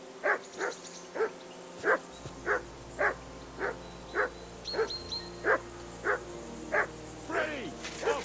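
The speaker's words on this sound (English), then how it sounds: "I assume you can hear that damn dog of yours barking." A single dog in Kingdom Come: Deliverance II barks over and over in an even rhythm. The barks are fairly close, with a faint ambient hum and brief voices in the background.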